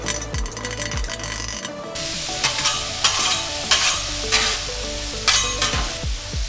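Ground meat sizzling loudly in a pan while a utensil breaks it up and stirs it, making repeated rhythmic scraping and clattering strokes over the constant hiss of frying fat, close and clear with no speech.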